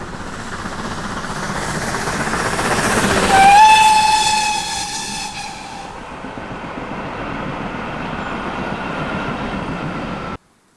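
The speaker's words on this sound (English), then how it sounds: "City of Truro climbs Whiteball Bank out of Somerset into Devon" Steam locomotive 3440 City of Truro approaches up Whiteball Bank from Somerset into Devon through a cutting, its steady chuffing roar swelling as a loud, sustained whistle sounds, then rumbling on until it cuts off abruptly.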